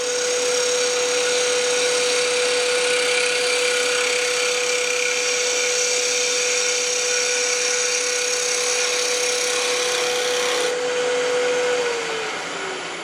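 A skew chisel shears a wooden sample pen blank spinning on a lathe, giving a steady, continuous hiss and whir with a constant motor hum underneath that fades slightly near the end.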